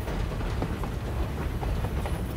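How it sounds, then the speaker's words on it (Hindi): A moving train rumbles loudly and continuously from inside a carriage, a dense roar of wheels and track noise with faint rhythmic clatter running throughout. "मुन्नी बिटिया डरिए मत, आपके बाऊजी रेल चल रही है ना, इसलिए थोड़ा जोर जोर से बोल रहे हैं।"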